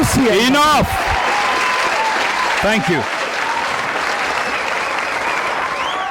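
Loud, sustained audience applause at a fan battle contest, with a voice speaking over the clapping at the start and again briefly midway.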